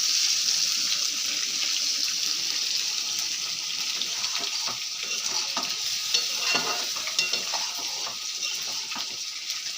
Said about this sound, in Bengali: এই দেখুন, মাছের তেলটা ভেজে নিই